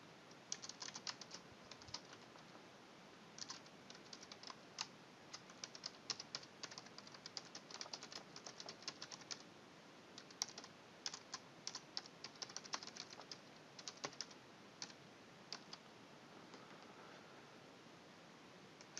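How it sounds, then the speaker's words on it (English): Steady typing on a computer keyboard while filling in names and connecting words for an obituary notice, with quick irregular bursts of soft key clicks and brief pauses, close and quiet with no talking. "And we type in the connectors here."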